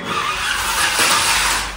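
A remote-control drift car skids across the ground, a close, loud, continuous rough scrape and whir of spinning tyres lasting under two seconds.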